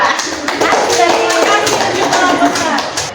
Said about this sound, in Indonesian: aplaus skor kelompok 1